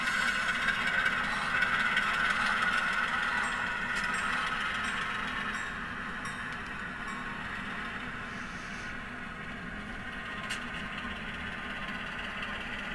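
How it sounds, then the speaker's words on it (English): Model diesel locomotive with a Tsunami2/Blunami sound decoder coasting in reverse with a single car, a steady low engine rumble with the exhaust dropped down, fairly even and mid-level, fading slightly after a few seconds with no talk. "you can hear that the dynamic exhaust has taken the exhaust and read it and dropped it down, because we're just coasting with a single car"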